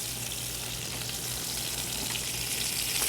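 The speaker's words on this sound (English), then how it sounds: "We're going to put that in some smoking hot olive oil" Chunks of pork, chicken and beef sear in smoking-hot olive oil, giving a steady, dense sizzle that stays loud and even throughout with no voices.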